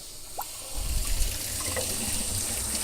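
Water gushes and hisses through a Febco 825Y backflow preventer after a failed repair, a steady, broad rush that starts softly and swells into a constant close-up flow.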